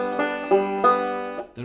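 A forward roll picked across strings 3, 2 and 1 as an eight-note drill pattern, plucked notes ringing in a steady rhythm, close and clear with no talking.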